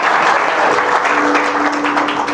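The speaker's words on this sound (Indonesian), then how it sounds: "Kasih tepuk tangan yang kencang dong." A church congregation claps loudly in a dense, sustained burst of applause, steady throughout with a faint steady tone beneath it and no talk over it.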